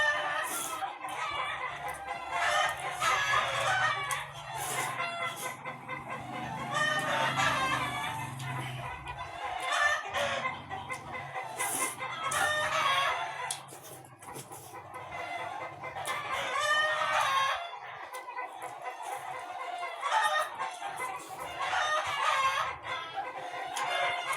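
Chickens cluck in an ongoing chatter while a rooster crows a few times, the calls overlapping at moderate distance, from a neighbor's yard.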